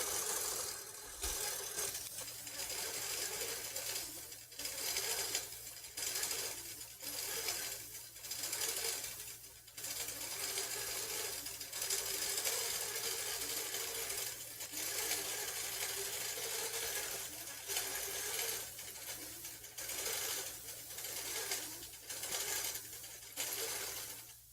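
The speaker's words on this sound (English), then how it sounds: "let's go ahead and enjoy as this sews out this particular pattern." A sewing machine stitching out a pattern hums and whirs continuously, its steady drone broken by brief pauses and small clicks as the stitching moves along.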